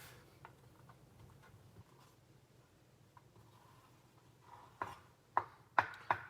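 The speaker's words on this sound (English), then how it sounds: "You want your onions to be basically small dice," A knife dices onions into small pieces for jeera rice. The kitchen is quiet at first with faint ticks, then a few sharp, close chopping strikes come near the end.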